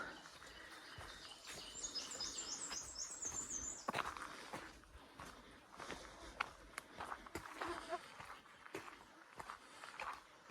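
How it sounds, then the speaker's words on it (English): Birds chirp and trill in quick high runs, fairly close at first, over crunchy footsteps and rustling on a trail walk on Blueberry Mountain, Lanark Highlands, Ontario. "Can really hear the birds out here."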